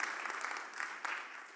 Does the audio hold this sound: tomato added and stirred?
no